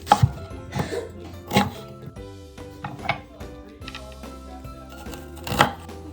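An onion is chopped with a knife on a board, giving about a dozen sharp, irregular thuds close by, with faint kitchen clatter in the gaps; nobody speaks.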